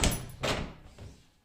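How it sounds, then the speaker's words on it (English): A uPVC door swings shut with a solid thunk, followed by a softer knock as it settles, close by in a quiet room. "Close the door,"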